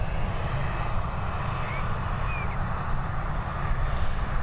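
An Etihad Airbus A350 airliner takes off from Dublin Airport, a broad, steady jet roar holding at an even level for about four seconds, heard from a distance with no talk over it.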